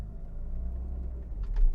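Low, steady engine rumble of an Audi A2 1.4 16v pulling away as its faulty clutch suddenly grabs, with a slight surge near the end.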